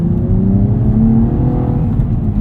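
A 2016 Cadillac ATS-V coupe with a six-speed manual revs while driving, its engine a loud, close, continuous drone that rises and falls steadily with no voices.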